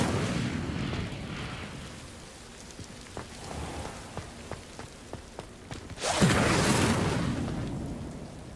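An Incendio fire spell is cast in Hogwarts Legacy over steady rain-like ambience, with a series of light ticks and small pops before a sudden whooshing flare of flame rises near the end and slowly fades.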